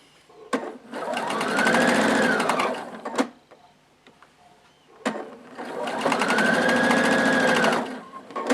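An electric sewing machine stitches quilt pieces together in two long steady bursts of rapid needle whirring, each starting and stopping cleanly with a quiet pause and small clicks between them.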